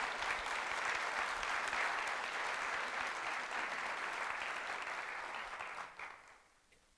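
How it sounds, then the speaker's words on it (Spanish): Sustained applause from a church congregation at a family gathering, many hands clapping loudly and steadily before fading out near the end. "Entonces, démosle un aplauso fuerte al Señor"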